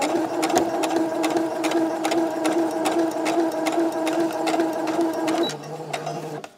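A sewing machine stitches the hem of a blouse in a light, shifting fabric, running steadily with a fast rhythmic whir and regular ticks, close and clear, then slowing to a lower hum near the end.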